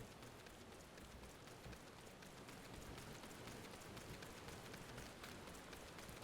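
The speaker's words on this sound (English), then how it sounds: "I could just turn up the rain sounds more." Steady rain falling in Final Fantasy XIV Endwalker, a constant dense hiss of drops pattering on surfaces, even and unbroken, soft in level with no voices over it.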